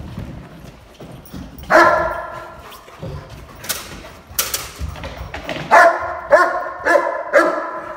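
A German shepherd barks during protection training, loud close barks in short bursts, one early and then several rapid ones near the end, with thuds and rustling of the training session between them.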